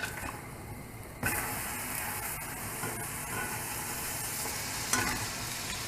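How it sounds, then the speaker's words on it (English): Bread sizzling in hot butter in a pan for a grilled cheese sandwich, a steady soft frying hiss that rises as the bread goes in, faint and close. "Now that we have the butter in the pan and it's heating up, we can put the bread."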